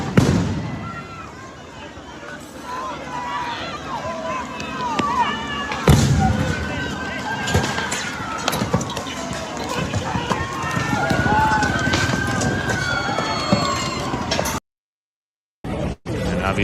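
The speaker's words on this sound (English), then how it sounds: "this is tear gas. Those were rubber bullets." Tear gas canisters and rubber bullets are fired at a Los Angeles riot protest, sharp pops and bangs ringing out over crowd noise and shouting, with people speaking close by throughout.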